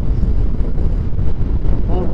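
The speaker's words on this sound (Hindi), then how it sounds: "बहुत ठंडी ठंडी हवा चल रही है" Cold wind blowing steadily across the microphone on a winter motorcycle ride in the mountains near Devprayag, a continuous loud rumbling gust noise that fills the whole moment without a break.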